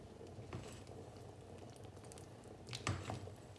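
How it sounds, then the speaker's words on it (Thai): A lidded pot of food simmers on low heat, its faint, steady bubbling broken by a couple of slightly louder pops and gurgles, with no voices over it. "พอเริ่มจะเดือด แล้วพี่ก็จะปิดฝาแล้วทีนี้ แล้วพี่ก็จะ ไฟอ่อน"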